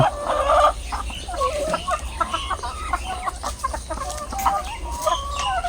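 Laying hens on a small Thai egg farm cluck and murmur in a coop, a steady chorus of overlapping clucks and short calls at close range, with no talking.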